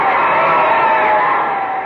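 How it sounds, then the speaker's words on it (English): A stadium crowd cheers the winners after a football game, a dense roar of many voices held at a steady loud level for a couple of seconds. "Listen to this crowd cheering the winners."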